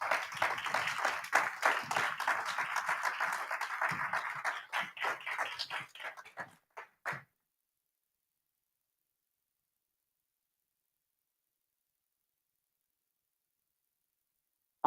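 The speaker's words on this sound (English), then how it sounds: "Can we give a warm round of applause and virtual round of applause for our panelists" An audience at a Black music summit applauds panelists with dense, fairly close clapping for about seven seconds, thinning out before falling into silence.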